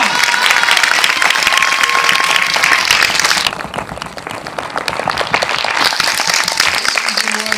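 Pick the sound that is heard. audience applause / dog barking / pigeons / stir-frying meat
audience applause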